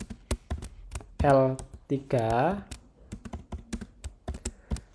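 Close, clicky keystrokes on a computer keyboard tap out a command in uneven bursts, with a person briefly speaking partway through.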